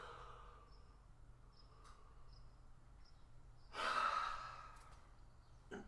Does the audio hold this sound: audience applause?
no